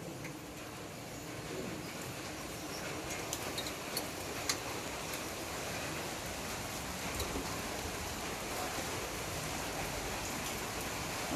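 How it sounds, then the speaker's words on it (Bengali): Heavy rain falling steadily outdoors, a dense unbroken hiss with scattered ticking drops, moderately loud and continuous with no voices. "অথচ বৃষ্টি হচ্ছে"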